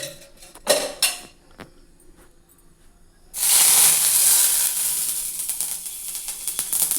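Moringa leaves dropped into hot oil in a pan, with a few clinks and taps of utensils first, then a sudden loud sizzling hiss that keeps crackling steadily and fades slightly.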